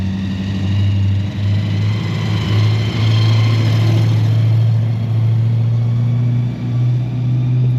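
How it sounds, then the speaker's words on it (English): Loud, deep engine rumble as heavy supercharged blower cars roll past nearby in Kansas, a sustained throaty drone that swells and holds without letting up. "We got traffic and we got blower cars."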